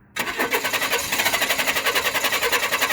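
A 1995 Chevy Blazer's 4.3-liter engine cranks in clear flood mode on the starter, a sudden onset followed by a fast, even pulsing whir that keeps a regular rhythm, close and loud, with no voices.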